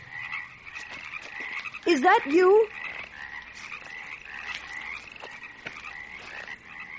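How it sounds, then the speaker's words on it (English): Frogs and crickets chirr and croak in a night ravine setting of a horror radio drama, a steady chorus with one louder, closer croak; a voice speaks briefly over it. "The crickets and frogs"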